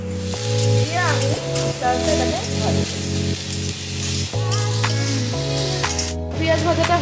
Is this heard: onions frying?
yes